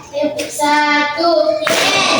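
Children in a classroom clap their hands in a quick burst together, loud and close, with a teacher's and kids' voices chanting over it.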